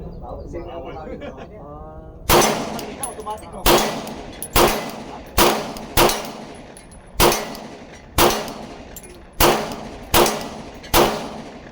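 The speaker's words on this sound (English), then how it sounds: "I just like the way I shoot this Glock" Glock 19X pistol fired at a range, ten loud, sharp shots spaced about a second apart with ringing decay, preceded by a few seconds of faint chirping birds.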